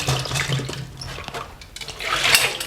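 Water pours steadily over rinsed medium-size shiitake mushrooms, about one and a half cups, to soak them. The splashy, continuous flow is moderately loud and close, with no voices.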